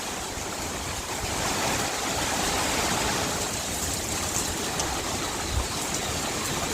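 Hurricane Milton's wind blows hard and roars in a continuous broadband rush outdoors in Plant City, Florida, with occasional faint knocks and gusts and no voices.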